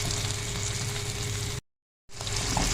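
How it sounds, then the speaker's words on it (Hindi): Tomato masala fries in a pan for an egg karahi, a steady close sizzle that cuts out briefly to silence and then resumes, with no voices. "अब हमने अपने मसाले को इतना भूनना है कि ये जो टमाटर है ना ये बिल्कुल पेस्ट बन जाए।"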